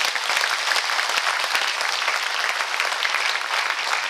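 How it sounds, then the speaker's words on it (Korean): Steady, dense applause from a hall audience at a Yeongwol county government presentation on Gangwon Special Self-Governing Province, loud and sustained throughout without pause. "큰 박수 쳐주고 저는 내려가겠습니다."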